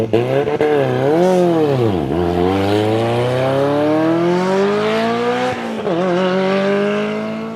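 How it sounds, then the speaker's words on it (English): A Ford RS200 Group B rally car, 1.8-litre turbo four-cylinder making 800 horsepower, launching hard on gravel: loud, close engine wails sweeping up through gear changes, with brief dips between shifts. "launching the car from 0 to 60 miles per hour in just over 2 seconds, on gravel."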